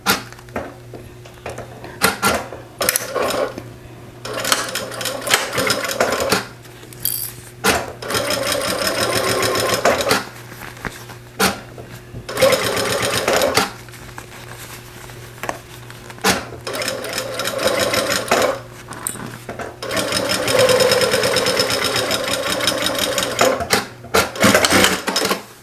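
A sewing machine stitches a faux leather wallet in several bursts of rapid mechanical clatter, separated by pauses, close and fairly loud over a low steady hum.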